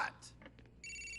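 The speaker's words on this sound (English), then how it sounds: "The phone's ringing." A phone ringing in the video game Grand Theft Auto IV: a steady electronic ringtone starts after brief game sound effects and a snatch of voice, then continues loud and unbroken to the end.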